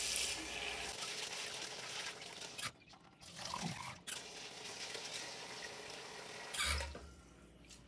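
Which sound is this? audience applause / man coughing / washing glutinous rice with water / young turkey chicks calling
washing glutinous rice with water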